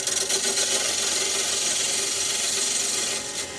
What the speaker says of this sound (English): I'm going to tidy up the bottom with the spindle gouge.